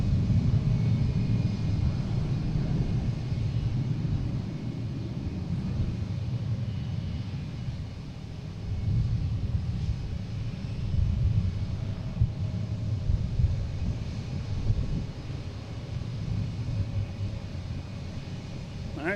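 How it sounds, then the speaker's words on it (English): An American Airlines Airbus A321 jet departing Boston Logan for Philadelphia, a continuous low rumbling engine roar at a distance, fairly steady with gentle swells and a slight dip partway through. "American going to Philly in A321, flight 2835."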